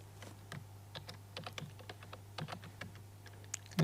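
Quiet, close keystrokes tap irregularly on a computer keyboard while code is typed, small clicks scattered over a low steady hum with no talking.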